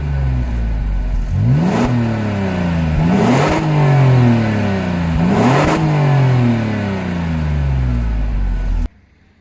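An Alfa Romeo Brera V6 3.2 with 260 horsepower revs in three loud, close bursts, each rising quickly then falling back to idle, ending abruptly.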